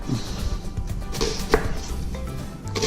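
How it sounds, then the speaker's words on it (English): Knife chopping onion on a cutting board for teriyaki chicken, a few close, irregular chops and taps spread across a few seconds with faint kitchen background. "So just gonna cut some onion up"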